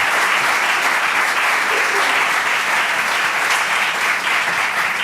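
Loud, continuous applause from an audience welcoming a guest at a book event, dense and unbroken for the whole stretch.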